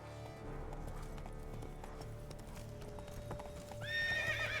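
Roach, Geralt's horse in The Witcher 3, gallops with rapid clip-clop hoofbeats over game ambience, then lets out a loud whinny near the end.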